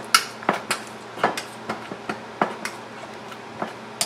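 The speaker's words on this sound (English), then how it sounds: "this is how you have to mash all the boiled veggies" Repeated mashing of boiled mixed vegetables and green peas in a pan for pav bhaji: irregular knocks and scrapes of a masher against the metal pan, close and moderately loud, about a dozen hits with short pauses between.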